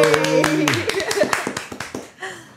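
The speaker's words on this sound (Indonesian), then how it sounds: "Agung Saga. Tepuk tangan." An audience claps to welcome guest Agung Saga on an Indonesian talk show, a short run of distinct, fairly close hand claps that thins out and stops, with voices speaking over it.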